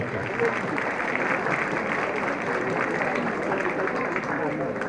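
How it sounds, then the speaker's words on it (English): Sustained applause from an alumni homecoming audience for a keynote speaker, a dense, even wash of clapping at steady loudness throughout, with some crowd noise mixed in. "A round of applause to our keynote speaker"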